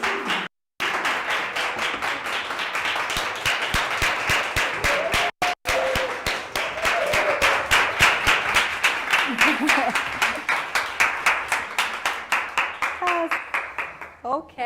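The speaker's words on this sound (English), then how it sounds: "please welcome Maya Konishi and Coach Hano with a warm applause" An audience applauds steadily for about fourteen seconds, dense clapping from a crowd that swells slightly and tapers at the end.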